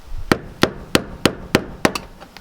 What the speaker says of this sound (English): we are going to just try using a pair of multi-grips as a hammer